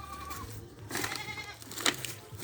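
Goats bleat at their pen, a few short wavering calls close by over a low background hum.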